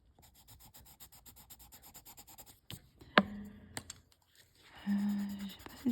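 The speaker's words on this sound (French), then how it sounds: "Et on peut repasser un petit peu du blender pour atténuer" A colourless blender pencil rubs over coloured pencil on paper to soften and mix the colours. Quiet, rhythmic scratchy strokes come first, then some brief knocks and a louder scrape near the end.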